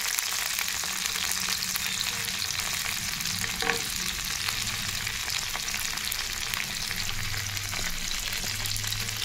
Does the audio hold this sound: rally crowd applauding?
no